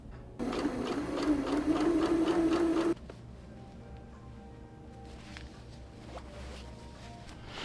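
Sewing machine stitching a tote bag seam closed, a fast steady rattling hum lasting a couple of seconds, then stopping and leaving quiet room noise with faint handling sounds.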